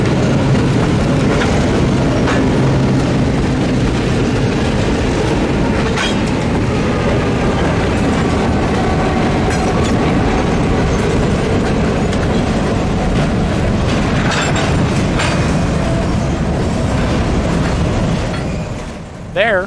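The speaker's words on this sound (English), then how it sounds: "There, they would shove their 3 hoppers onto the interchange track with the Buckingham Branch Railroad, and then return to their shops." A trio of classic locomotives on the Shenandoah Valley Railroad, pulling three hoppers as they slow on the approach into Staunton, produces a loud, continuous rumble and wheel clatter up close that eases off at the very end.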